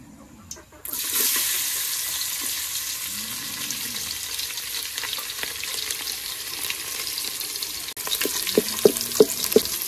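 Garlic hits hot oil for a Konkani tempering in a village kitchen, bursting into a loud, continuous sizzle after a quiet start, with a sharp break near the end and a few clinks of a utensil against the pan.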